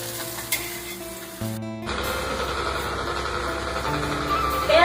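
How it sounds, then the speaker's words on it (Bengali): Eggs fry for a poached-egg order in a pan, a steady hiss that swells louder partway through after a brief hum and a clunk, with a faint engine-like drone underneath and no speech. "এই যে ডিমের পোচ হচ্ছে"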